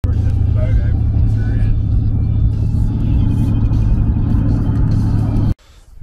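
A newly bought pickup truck, its throttle controller unplugged, rumbles loudly and steadily up close as it drives off for its first spin, with a voice briefly heard over the engine before it cuts off abruptly near the end.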